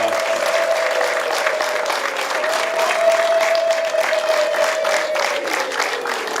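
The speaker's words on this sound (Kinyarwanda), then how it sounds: "Amashyi menshi cyane twakira umukwe." A crowd claps steadily and densely to welcome the groom at a Rwandan wedding, a sustained wash of applause with a sung or held tone running underneath throughout.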